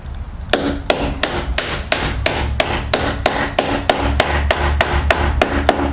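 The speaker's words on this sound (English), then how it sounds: "Then you take your screwdriver handle and tap it into place." A screwdriver handle taps a plastic pet door flap into its frame, a steady run of about fifteen sharp, close knocks at roughly three per second over a low hum.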